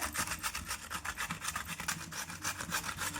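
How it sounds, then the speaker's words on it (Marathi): Food being grated by hand on a grater in a home kitchen while making a quick wheat-flour breakfast: steady, close rhythmic rasping strokes repeating evenly throughout, with no talking. "छान किसून घ्यायची"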